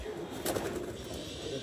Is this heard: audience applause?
no